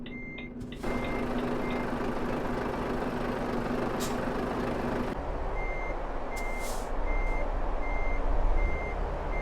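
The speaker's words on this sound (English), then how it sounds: "Alright, getting ready to reverse into the spot." A 750hp Volvo truck in Euro Truck Simulator 2 idles while its reversing alarm beeps in a steady, evenly spaced series over the rumbling engine, with a brief air-brake hiss along the way; no one speaks.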